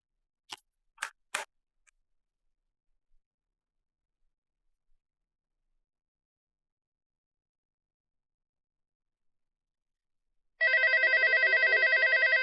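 A telephone in an office bursts into a loud, trilling electronic ring near the end, following a few sharp knocks and long near-silence, with no voices over it.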